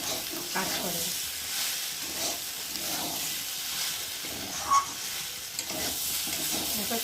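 Fish head and Malabar spinach sautéing in a pan, with a steady sizzle and frying hiss broken by the scrape of a spoon stirring, plus one brief clank partway through.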